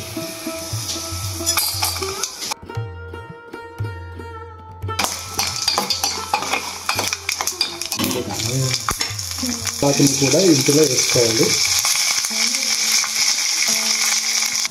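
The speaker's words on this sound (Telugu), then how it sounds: "పల్లీలు అయితే వేగిన తర్వాత ఇందులో మనము పోపు దినుసులు అయితే వేసుకోవాలి. దాంతోపాటు పచ్చిమిరపకాయలు కూడా వేసుకోవాలి." Peanuts, tempering spices and green chillies fry in ghee with a steady close sizzle, broken by a brief quiet pause and the clink of a utensil stirring the pan; a voice talks briefly over the frying.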